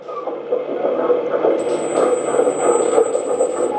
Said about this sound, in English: Move the track, you will hear the sound imitating real one.